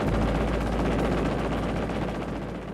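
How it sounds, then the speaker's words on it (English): Six Browning M3 .50-caliber machine guns of an F-86 Sabre firing as a continuous loud, dense roar of rapid gunfire that lasts throughout. "The F86 Sabre was armed with 6 50-caliber Browning M3 machine guns."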